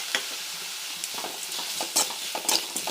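Onions being stirred and sautéed with ginger garlic paste in a pan, a continuous close sizzle broken by scraping stirring strokes, no voices.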